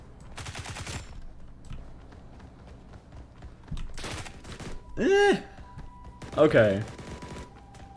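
A UMP submachine gun fires in the shooter game BRM5 in several short bursts of rapid, fairly slow-cycling shots spread across the stretch, with a voice speaking briefly and some groans and in-game noises between the bursts.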